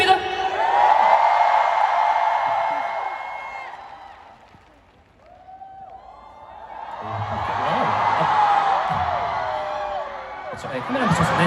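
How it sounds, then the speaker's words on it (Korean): Large fan meeting audience for G-Dragon breaking into loud applause and cheering, swelling, dipping briefly to near quiet, then rising again into a second wave of clapping and whoops. "다시 한번 큰 박수 부탁드립니다"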